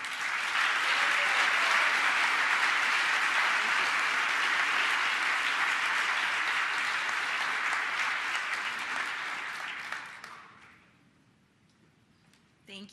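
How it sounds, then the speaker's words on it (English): A large crowd at a nursing pinning ceremony claps steadily and loudly for about ten seconds, then the applause fades out into near silence. "Please give one last round of applause to our 2017 Ball State nursing graduates."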